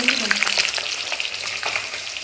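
Food frying in a pan on a rainy day while khichuri is made, a close, crackling sizzle with a few sharp pops and light stirring scrapes.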